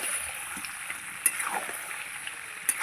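Meat is stirred in a pan while it cooks, giving a soft, low sizzle with light scraping and a couple of sharp clinks from the utensil, quiet and close.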